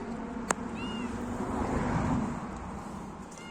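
A cat meows outdoors by a garden swing, a short rising call standing out over steady background hum and distant road noise, with a brief click just before it.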